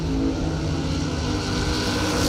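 A drag racing car launches hard from the left lane and pulls into a big wheelie, its engine a loud, steady roar holding for a couple of seconds alongside the race noise.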